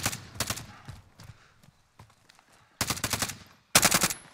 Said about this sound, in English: Carl, you need 60 bullets on that thing.